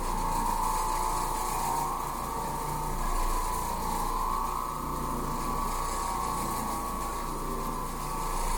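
An Oreck Orbiter floor machine drones steadily on carpet, a continuous close mechanical whir and rumble with no pauses, holding at a constant level throughout.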